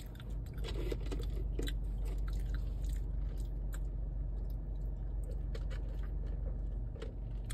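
Soft, close chewing and crunching of kimchi fries topped with spicy pork comes as irregular small bites over a low, steady outdoor background hum.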